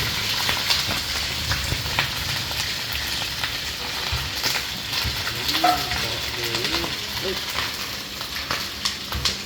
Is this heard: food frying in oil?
yes